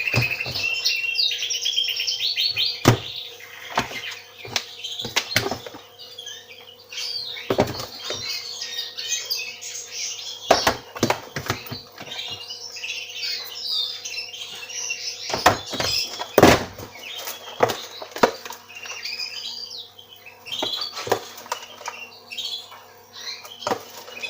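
Garden birds chirping and tweeting in a steady, busy chorus of high calls, with intermittent sharp thunks and knocks nearby and no talk.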